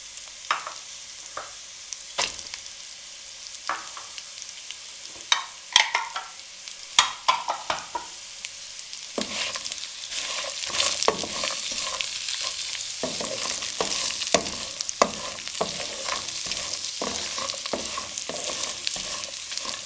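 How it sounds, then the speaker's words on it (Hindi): Dry fruits frying in a pan over a low flame for sheer khorma, with a soft steady sizzle broken by sharp scraping and clinking strokes of a spoon stirring, sparse at first then busier. "लो फ्लेम पे हम इनको 1 से 2 मिनट के लिए अच्छे तरीके से फ्राई कर लेंगे।"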